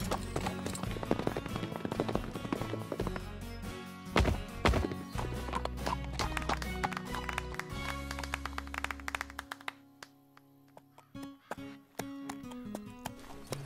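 Cartoon horse hooves clip-clop during a show-jumping demonstration in an animated riding-school scene, a steady loud trot with music and effects over it, fading quieter in the last few seconds.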